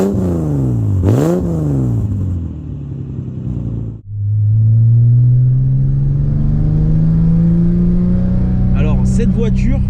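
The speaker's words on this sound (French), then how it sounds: "une petite ligne d'échappement sur cette voiture" A Toyota Supra with an aftermarket exhaust revs hard with a throaty exhaust, drops briefly, then climbs again in a long loud rising roar, close by.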